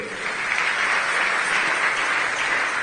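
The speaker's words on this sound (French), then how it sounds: "Nous acclamons encore pour eux." A church congregation bursts into sustained, dense applause with some cheering, loud and continuous for about three seconds.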